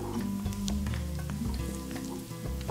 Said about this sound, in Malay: Bila minyak dah panas, goreng bawang sampai garing.